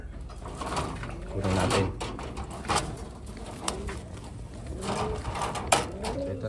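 Pigeons coo in low, rounded calls repeated several times among other birds kept for sale, with a person talking nearby over the steady murmur.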